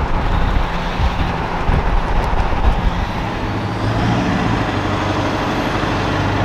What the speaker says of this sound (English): We got a little dually and it's towing.